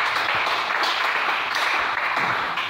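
A church congregation applauding and cheering in praise of the Lord, a steady dense wash of clapping and voices at close range that fills the whole moment without a break.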